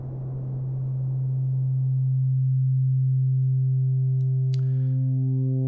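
A VCV Rack synth oscillator blending noise with a waveform: a steady loud low tone under a hiss that thins out, then added harmonic overtones and a brief click near the end, no voices.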